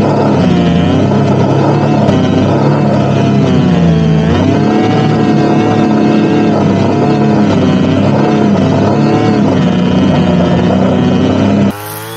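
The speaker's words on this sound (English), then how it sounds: "why don't you bring up your weed whacker and just whack all this stuff down?" A loud, close weed whacker runs continuously at high revs, cutting through tall ferns and weeds, its engine pitch dipping and rising under load before cutting off abruptly near the end.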